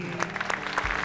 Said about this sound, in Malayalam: അടിപൊളി, നല്ല കൈയടി.